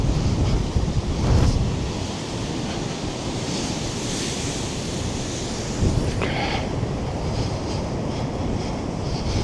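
Loud, continuous roar of wind and crashing waves during a December storm on a Lake Erie beach, with gusts buffeting the microphone and surf surging in the background, no voices.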